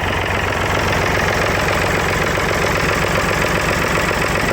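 A loud, steady David Brown 885 tractor engine idles close by after a cold start, its low chugging rumble running unbroken and even throughout.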